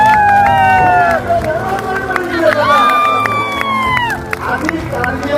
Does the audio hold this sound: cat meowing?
no